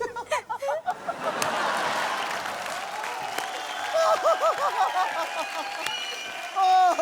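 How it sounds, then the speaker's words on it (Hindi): Studio audience applauds an actress named Tina on a Hindi TV comedy show, a broad wash of clapping under overlapping voices and laughter, with a short loud burst at the end. "जोरदार तालियां टीना के लिए।"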